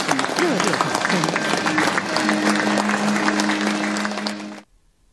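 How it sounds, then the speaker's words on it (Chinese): Warm applause rises from an audience at a ceremony venue, a dense patter of clapping lasting several seconds over a background voice before it cuts off abruptly. "现场响起热烈掌声"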